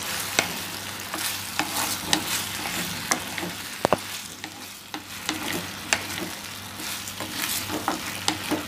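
Yam pieces sautéing with salt in a pan give off a steady loud sizzle, broken by repeated sharp clicks of a spoon stirring against the pan, with no voices.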